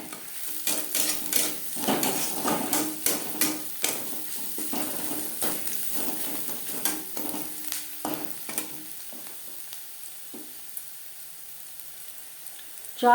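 Onions and green chillies frying in a pan with turmeric and salt, a close sizzle with frequent stirring scrapes that thin out and quiet toward the end.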